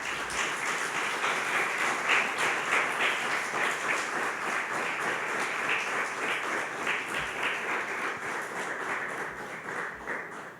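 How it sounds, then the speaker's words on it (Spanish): Steady applause from a church congregation, sustained clapping that fills the whole stretch at an even level with no speech over it. "Dale un aplauso al Señor"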